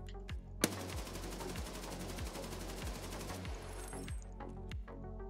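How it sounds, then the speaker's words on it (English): Unsuppressed AK-12 automatic fire in Escape from Tarkov, shooter crouching: a sustained rapid burst of sharp shots lasting nearly three seconds, loud and close, preceded and followed by a few single mechanical clicks and shell-like tinks. "finally, crouching recoil of the unsuppressed AK-12"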